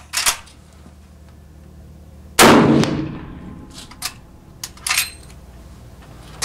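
One loud, close gunshot from a 410-grain hard cast bullet fired in a chronograph test of a .500 S&W or .45-70 rifle, sharp crack and fading ring, followed by faint metallic clinks and handling noises.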